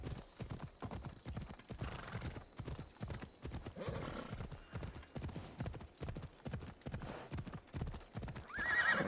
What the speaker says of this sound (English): This horse isn't the best for climbing mountains, but it's good for battle.